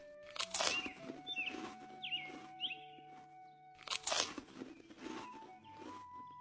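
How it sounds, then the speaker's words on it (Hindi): Cartoon giraffe crunching leaves off trees, with two bursts of crisp rustling crunches about four seconds apart and softer chewing and snapping between them, set over a steady background music tone. "जिराफ पेड़ों से पत्ते खा रहा था।"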